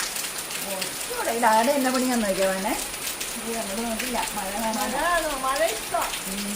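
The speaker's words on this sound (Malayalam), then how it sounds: "ഇവിടെ എന്തോ ഭയങ്കര മഴയാ" Heavy rain pours in a steady hiss throughout while people talk over it in a sing-song voice.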